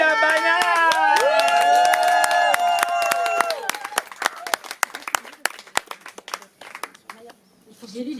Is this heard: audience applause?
yes